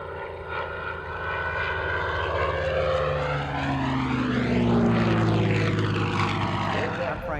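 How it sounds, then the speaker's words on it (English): A P-63 Kingcobra propeller warplane roars past at an air show, a loud droning engine whose pitch sweeps downward as it passes close by and then recedes. "Apollo 8 astronaut Frank Borman and the P-63 Kingcobra"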